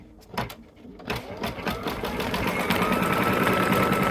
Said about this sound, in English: So it's just going to do a quick little satin stitch at the end.